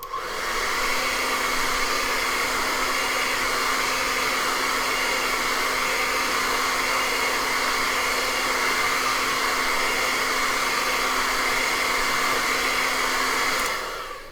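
A hair dryer blows continuously with a loud, even whir, running alone for several seconds before it cuts off.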